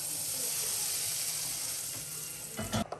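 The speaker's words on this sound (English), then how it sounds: "I'm just gonna mix this together" Ingredients for a homemade vegetable soup mixed together in a hot pan, a loud steady sizzle and hiss with a burst of stirring scrapes near the end, close up, no speech.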